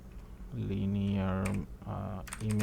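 Computer keyboard keys are typed in quick clusters while code is written, the clicks coming in short bursts under a person talking.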